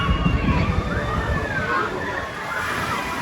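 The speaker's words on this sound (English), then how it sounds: "Now I said we were gonna come back and see the best splash ride here." Water rushes and sloshes loudly and continuously as a boat on the Boston Tea Party splash ride at Canobie Lake Park plunges through the water, with crowd noise mixed in.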